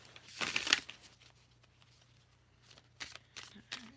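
Cards riffle close by in a quick shuffle, followed by a few softer shuffling bursts in near silence.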